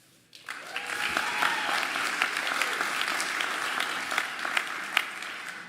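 An audience at a graduation ceremony breaks into steady, sustained applause, many hands clapping together at an even level for several seconds.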